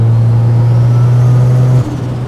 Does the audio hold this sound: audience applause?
no